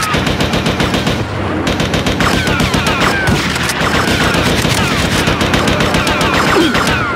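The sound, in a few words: gunfire in GTA Vice City Stories video game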